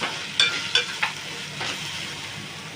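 Spring onion with gram flour and homemade chilli spice masala sautés in a low-oil pan, a soft steady sizzle broken by three or four sharp stirring scrapes up close.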